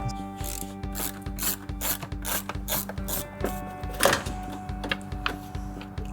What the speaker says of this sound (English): Just got to undo these 4 screws here.